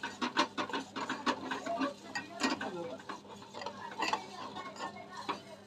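Green peas being stirred and sautéed over a low flame in a pan for sweet pea kheer, giving irregular scraping and clinking taps of a spoon against metal at moderate loudness.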